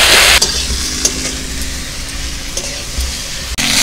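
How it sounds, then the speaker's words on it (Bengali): Taro, potato, eggplant, pointed gourd, drumstick and pumpkin fry in a pan with a loud, dense, close sizzle, broken by a few soft stirring clicks. "সবজিগুলো ভালো করে ভেজে নিচ্ছি,"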